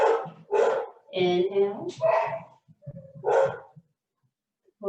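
Dogs bark and yip nearby in a series of short, loud, tonal bursts, their sound mixed with a voice during a quiet yin yoga stretching session.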